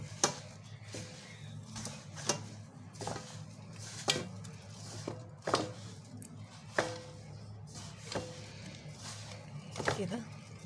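Kunafa dough is stirred and turned with powdered sugar in a pan, giving repeated spoon scrapes and clinks against the metal at an irregular pace over a soft sizzle, while someone talks throughout.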